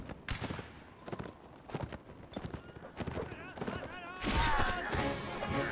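Muskets fire at will against cavalry in a Napoleonic Wars line battle. Sharp shots crack out one at a time, then merge into a denser crackling burst near the end, with voices faintly mixed in.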